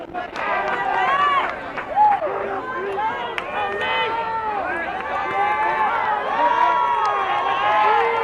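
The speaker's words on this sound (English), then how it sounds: "The crowd is definitely amping up their energy" Crowd at a high school baseball game, a lively murmur with scattered cheers and shouts rising and falling, while an announcer talks over it.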